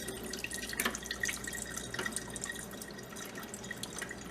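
Water carrying tomato pulp being poured off from a container, a quiet steady trickle with scattered drips and splashes, close up and without talk.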